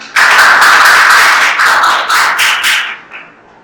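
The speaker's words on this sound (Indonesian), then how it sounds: "Terima kasih, boleh tepuk tangan." Loud applause from an audience at a school teaching-practice session, a dense wash of clapping lasting about three seconds before thinning out and fading.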